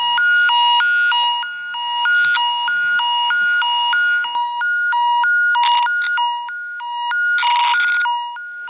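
A Klein tone generator probe traced along a wire emits a loud, warbling two-pitch electronic tone that alternates steadily, with a few brief crackles and scratches as the probe moves.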